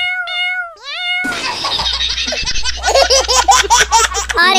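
A cartoon cat meows in a few rising, stylized calls, followed by loud exaggerated laughing from a cartoon voice over a low hum.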